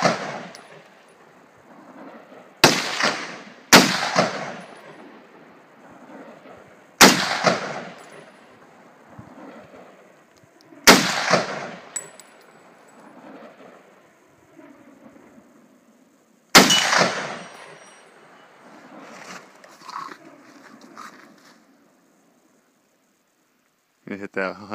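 Rifle shots from an M1 Garand fired outdoors in the Cascade mountains: five loud, sharp cracks spaced several seconds apart, each ringing off with a short echo. People talk between the shots.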